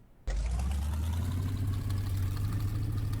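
In Ranch Simulator, a classic car's engine turns over and settles into a steady, loud idle with a low rumble that continues evenly to the end.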